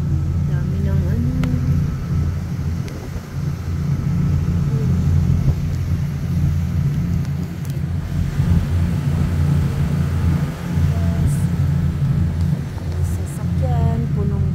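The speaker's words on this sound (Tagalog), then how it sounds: "Sasakyan, punong-puno, pati dito sa kabila. Ayan, guys, ang mga trucks." Heavy road traffic with many cars and trucks, a continuous loud low rumble of passing vehicles with a few brief higher-pitched squeals, steady throughout.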